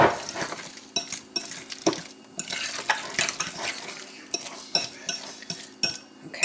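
Diced red onion and jalapeno are stirred together in a bowl for pico de gallo, with irregular close scrapes and clinks of a utensil against the bowl and no talking.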